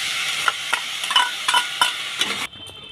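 Chopped cold tomatoes drop into a hot, oil-free pan of dry-fried meat, bringing a bright, loud sizzle broken by several sharp stirring scrapes before it suddenly cuts off near the end.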